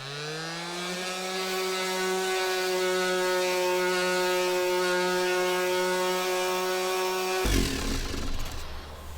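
A cheap electric sander runs steadily with a strong whining motor hum and layered tones, then the pitch drops abruptly near the end as it shifts into rougher grinding contact, loud and close with no voices.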